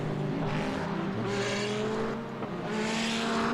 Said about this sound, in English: a wonderful rumble of all the V8s and fantastic screaming 6-cylinder engines of GT4 cars make their way out on track